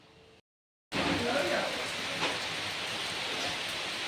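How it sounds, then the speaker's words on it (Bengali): Heavy rain pours steadily outside a home after a long dry spell, a loud continuous hiss that starts abruptly after a brief silence and holds evenly to the end. "কি সুন্দর ঝমঝম করে বৃষ্টি হচ্ছে"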